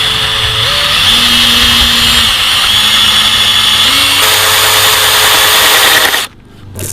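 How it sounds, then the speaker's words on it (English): A loud power drill whines and grinds continuously as it bores into a phone, its pitch stepping up and down as it bites into hard material, then cuts off near the end. "So we broke the display, but we're gonna keep drilling."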